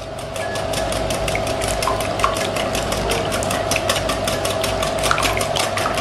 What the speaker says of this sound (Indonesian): Kita kocok hingga larut telur dan juga gulanya.